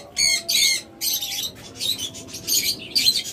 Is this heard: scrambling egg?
no